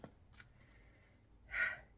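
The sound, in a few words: shuffling a deck of cards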